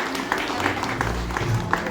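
Moderate audience applause at the inauguration of a new silk showroom, scattered clapping with a few sharper claps standing out over a murmuring crowd.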